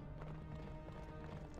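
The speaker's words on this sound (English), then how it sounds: "A horse." Horse hooves clip-clop in the Cartoon Network fighting game Punch Time Explosion, a steady rapid trotting rhythm that is faint and brief.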